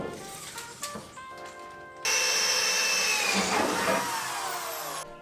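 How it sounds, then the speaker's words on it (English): A power drill whirs up sharply and runs steadily at high speed drilling holes for a mini jetboat build, following some lighter clattering and tool handling. "we're going to drill the holes out"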